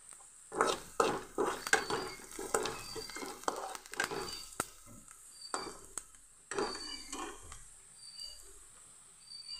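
Onion, garlic, green chili and panch phoron hit hot oil with soft sizzling, punctuated by a series of sharp stirring and spatula clatters against the pan, close and moderately loud, with no talking.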